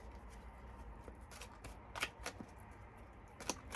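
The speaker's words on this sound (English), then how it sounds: "So I'm just going to shuffle the fairy deck here." A fairy oracle card deck is shuffled close by, with soft riffling and several crisp card snaps at irregular intervals.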